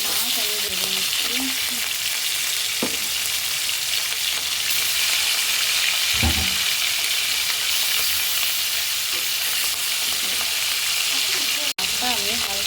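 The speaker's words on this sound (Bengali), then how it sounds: "কিছু মাছ আমি ভেজে নিচ্ছি।" Hilsa fish pieces fry in a pan with a steady, close hiss of bubbling oil and a few soft knocks from handling, the sizzle running unbroken to the end with no voices.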